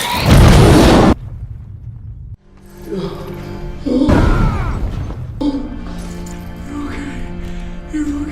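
Gunfire sets off a loud, deep blast at the start, followed by a rumbling aftermath and further booming crashes under a layer of music.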